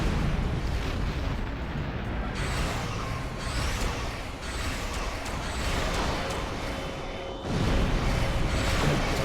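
Starship torpedo explosions in the space combat game Star Trek Online, a dense continuous roar of blasts and booming impacts with a fresh loud burst near the end, no talk over it.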